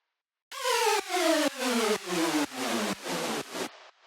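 Detuned saw synth chord whose fine pitch is modulated by a 16th-note LFO, seven rhythmic stabs about half a second apart with sliding, wavering harmonics, fading into a quiet noisy tail.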